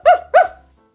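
A voice imitates a dog barking, giving two sharp, close woofs in quick succession before falling silent.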